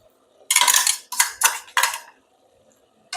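A spoon stirs mint-coriander-ginger-garlic paste into cooking chicken in a pot for a home-made chicken sambar, making four close, scraping strokes with short pauses between them.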